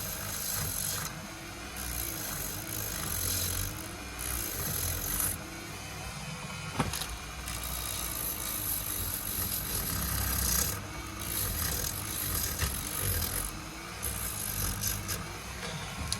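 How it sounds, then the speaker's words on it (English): Steady rhythmic rasping of sandpaper rubbed back and forth against wood, close and continuous, with strokes rising and falling in regular bursts. "You don't want to see me sanding all day."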